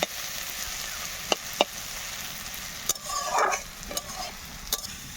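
Fish frying crisp and red in a pan, a soft continuous sizzle broken by a few sharp clicks and a brief burst of stirring, with no voices.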